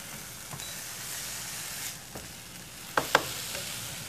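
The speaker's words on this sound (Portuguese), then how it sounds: "Interessante de fazer a cocção com azeite ainda frio, é que eu estarei cozinhando o alimento e cozinhando o alho, e não torrando" Garlic gently cooking in olive oil that started cold in a pan, giving a faint steady sizzle with a few soft clinks and two brief sharper taps near the end; no one speaks.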